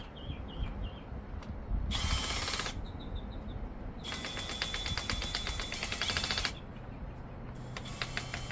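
A screw is driven in with a power driver while a pool upgrade is installed: bursts of whirring motor and ratcheting clicks start and stop in two main runs, close and moderately loud, with no talk.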